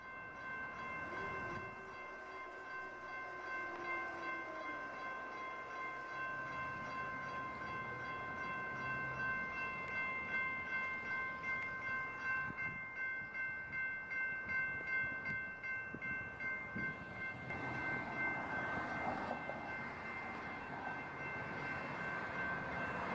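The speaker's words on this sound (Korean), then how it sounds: "먼저 아까 말씀드린 기차 영상 좀 열어주세요." A train plays back from a video in a meeting hall, sustained horn tones over a rumbling, clattering approach that grows louder and rougher toward the end, with no talk over it.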